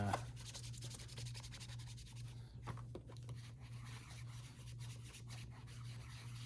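A rag rubs Saphir polish onto a shoe in quick, steady back-and-forth strokes. The soft, close, papery scrubbing sounds alone over a quiet background hum.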